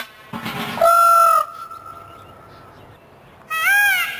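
A peacock gives loud, piercing squawks, one long held call followed by a pause and then a second harsh cry, close and standing alone without talk.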